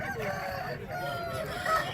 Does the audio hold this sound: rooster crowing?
yes